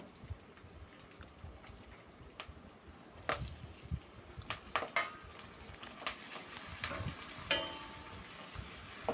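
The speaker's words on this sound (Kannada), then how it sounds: "ಎಣ್ಣೆಯಲ್ಲಿ ಚೆನ್ನಾಗಿ ಫ್ರೈ ಆಗಬೇಕು ಈರುಳ್ಳಿ" Onions, chopped tomato and curry leaves fry in oil in a pan, a faint, continuous sizzle scattered with small crackling pops that grow a little busier over time.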